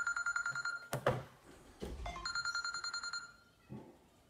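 A telephone rings in repeated electronic trills, a steady pulsing series broken by a few knocks and handling bumps, fairly close in a quiet room.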